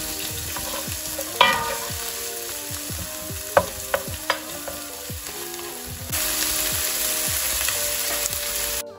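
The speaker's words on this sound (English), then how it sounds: "after the oil is preheated, I'm gonna add my onion and garlic together with the ginger." Chopped onion, garlic and ginger sizzle steadily in hot preheated oil, with occasional clinks of a utensil stirring the pan and the frying growing louder near the end.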